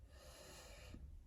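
One long, deep inhalation is drawn in close to the microphone, breathy and steady, and it ends abruptly.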